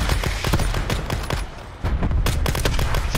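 Rapid video-game gunfire aimed at a tank, with dense overlapping automatic bursts and sharp repeated shots, loud and continuous with only a brief dip in the middle.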